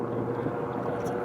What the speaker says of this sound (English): airplane is an FG-1D built by Goodyear